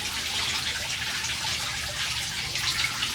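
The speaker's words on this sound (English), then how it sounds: "So as you can see, it just starts dripping down." Steady, close trickling of compost tea dripping from a compost system, a continuous wet dribble with no voices.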